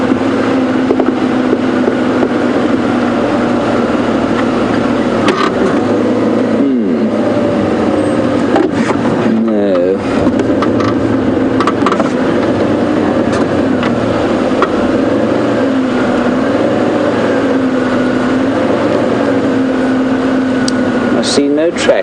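A safari game drive vehicle creeps slowly along a sandy road at Djuma Game Reserve, its engine giving a close, steady, low drone that continues without a break.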